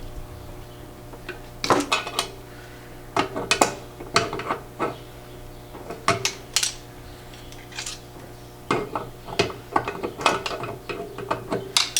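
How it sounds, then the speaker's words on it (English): A 14 mm wrench ratchets while tightening an oil pressure sender on a 1JZ engine, giving sharp repeated metallic clicks in short irregular bursts over a low steady hum, close and clear. "I think I'm going to use a wrench for this"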